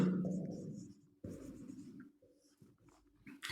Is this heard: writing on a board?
yes